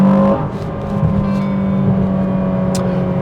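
An Aston Martin DBX707 SUV accelerating: a loud, steady engine drone with a strong tonal hum that holds and swells slightly as it pulls, heard close with no talk.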